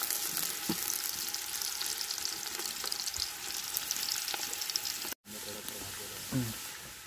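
Onions for a village-style Malvani chicken curry sauté in a hot pan, a dense steady sizzle with occasional stirring scrapes and a brief dropout near the end, close up.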